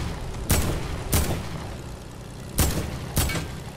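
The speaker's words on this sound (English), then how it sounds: "there's a guy from the back of us shooting" Gunfire in the Fortnite video game comes as four loud, sharp shots, two close together, a pause, then two more, over a steady background rumble.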